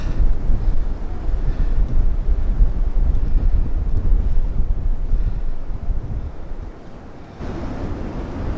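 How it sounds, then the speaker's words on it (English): Strong wind buffets the microphone at an open vista on the Appalachian Trail between Fox Gap and Totts Gap in Pennsylvania, a loud, continuous rumbling roar that eases slightly near the end, with no talking. "Bit breezy at this spot though."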